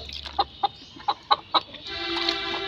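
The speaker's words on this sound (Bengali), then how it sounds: "দেখুন এগুলো কিন্তু শৌখিন মোরগ" A fancy rooster standing with its feet soaking in clean water gives about six short, sharp clucks in an uneven rhythm, close and loud, followed by a softer, longer call and background hum.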